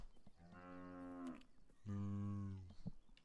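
A cow moos twice in the video game Beyond Eyes, two long drawn-out lowing calls with a short gap between them, close and clear with no talk over them.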